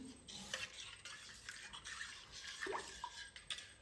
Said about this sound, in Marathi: दोन वाट्या पाणी ओतून घेतले रव्यामध्ये। मिक्स करून घेऊ